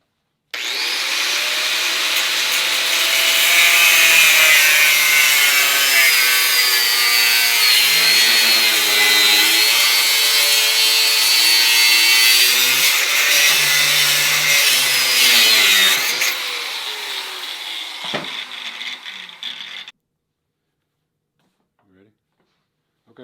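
Dry grinder cutting wheel slicing through a 1-inch aluminum bar, a loud, close, sustained whine with wavering pitch that runs for about twenty seconds, then winds down and goes quiet.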